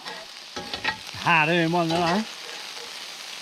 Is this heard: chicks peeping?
no